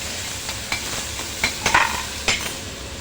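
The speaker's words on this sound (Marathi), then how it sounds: "कडीपत्ता आणि हिरवी मिरची आलं आणि कोथंबीर असं ठेचा केलेला आहे तो टाकणार आहोत" Crushed curry leaves, green chili, ginger and coriander hit hot oil, giving a steady sizzle broken by a few sharp crackles and spoon scrapes, close and with no voices.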